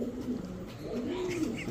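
Pigeons coo at a bustling pigeon market, soft low throaty calls rising and falling a few times under background chatter and general market noise.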